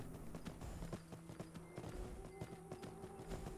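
A horse's hooves clip-clop in Skyrim, a quiet steady rhythmic walk of evenly spaced hoof strikes with faint ambient background and no talk.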